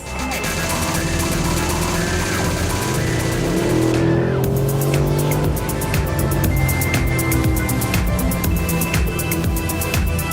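A Mercedes SLS AMG's 6.3-litre naturally aspirated V8, rated at 571 horsepower, roars hard and close under acceleration in sport mode. Tires squeal along with it, and the engine note rises and holds over ten seconds.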